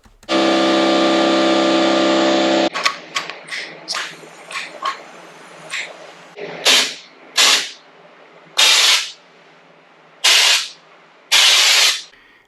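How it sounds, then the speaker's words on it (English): A compressor sprayer painting a camper gives a long continuous spray hiss, then a series of short hissing bursts of spray at uneven intervals, loud and close, with no talking. "I just went ahead and started from one end and sprayed down the other with one coat"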